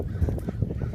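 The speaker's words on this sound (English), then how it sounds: "We're gonna throw it to the seagulls." Seagulls call in short harsh cries while bread is thrown to them, several squawks in quick succession, close by.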